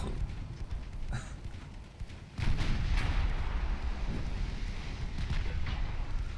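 Naval artillery fire from pre-dreadnought turrets in Ultimate Admiral Dreadnoughts, a game: a low rumbling boom swells about midway and keeps rolling on, with scattered sharper cracks, loud and without talk.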